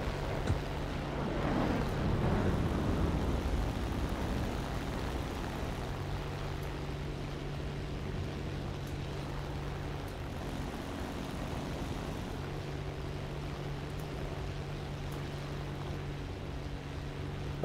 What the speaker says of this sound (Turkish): Bir tane de Spitfire geliyor.